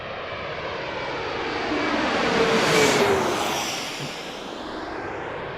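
A jet airliner passes close by at Washington National Airport. A broad engine roar swells to a loud peak near the middle, then fades, with a falling whine as it moves away.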